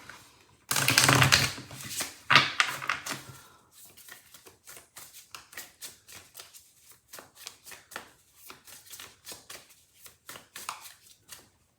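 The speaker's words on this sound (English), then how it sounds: "Give it another shuffle." Tarot cards being shuffled in quick riffling bursts, a loud flurry at first, then a steady run of soft snapping flicks, close up with no talking.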